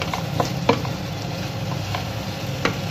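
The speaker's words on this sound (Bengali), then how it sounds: "দিয়ে একটু নেড়ে চেড়ে দেবো মশলার সঙ্গে" Fried potatoes stirred into spices sizzling in oil in a pan, a steady close fry hiss with a few sharp scraping and tapping strokes of the spoon scattered through it, no voices.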